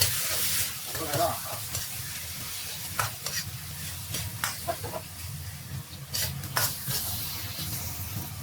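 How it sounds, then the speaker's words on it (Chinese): Ginger slices and pork belly stir-fried in a very hot iron wok with oil, a steady loud sizzle broken by repeated scraping and clattering strokes of the spatula, close up with no talking. "迅速下入姜片和五花肉，不断翻炒。"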